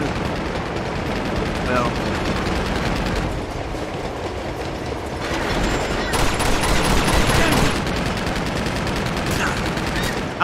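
Gunfire crackles in Uncharted 2 as rapid bursts of shots ring out over the loud rumble of a moving train, and someone briefly speaks.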